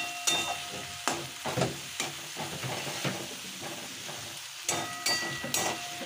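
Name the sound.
onion paste, chilli paste and cumin frying in a pan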